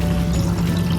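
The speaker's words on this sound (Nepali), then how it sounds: "म चाहिँ यति पानी हाल्ने।" Water pours into a cooking pot while Nepali aloo dum is being made, giving a short, steady, close-up splashing gush that lasts about a second.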